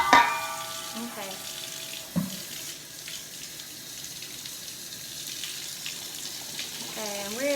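Water runs from a kitchen tap into a measuring cup, a steady hissing stream, with a few clunks and brief voices over it.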